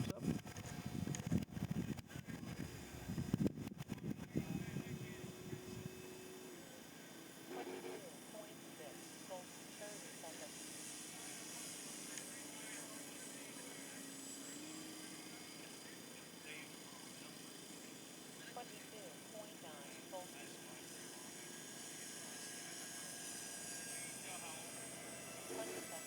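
A radio-controlled HSD Cessna 182 model airplane with a 2000 mm span on 6S power flies overhead with a steady electric motor hum. Some nearby handling noise and wind come first, and someone talks quietly over the flight.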